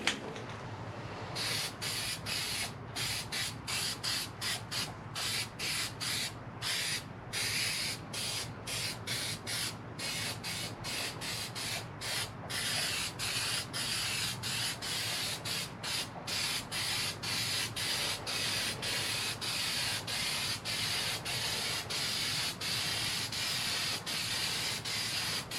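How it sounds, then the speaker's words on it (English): Black paint sprayed onto a large 180 gallon offset smoker: a steady, close hiss runs throughout, chopped by frequent brief breaks as the spray is released and resumed, with no speech. "So I'm gonna shoot a coat of black on it"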